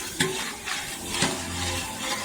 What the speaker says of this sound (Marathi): फोडणी द्यायला सुरुवात होती. मसाले ॲड होत होते.